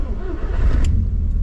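A 1983 Mk1 Golf GTI with a restored 1.8 engine drives on the road, its engine a loud, steady low rumble heard from inside the car, with a brief faint click partway through.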